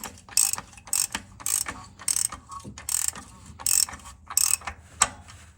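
Ratchet wrench clicking clockwise while tightening an oil filter on a 2016 Toyota Camry, a run of about seven quick rattling bursts in a steady rhythm, close and fairly loud.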